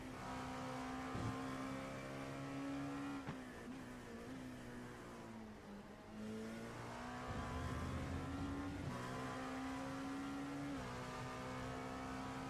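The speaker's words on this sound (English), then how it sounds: "That is one circuit around the track behind the wheel of the 69 machine with Mark Axelson behind the wheel." A race car, the No. 69 machine, laps a road racing circuit in a grinding road series, its engine holding a steady, loud tone with gear changes and rev swings from shifting through the corners, continuous throughout.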